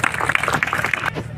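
A crowd at a traditional kusti wrestling match in Mathachi Wadi applauds in a dense, continuous wash of clapping and cheering, with an announcer's voice running loudly over it.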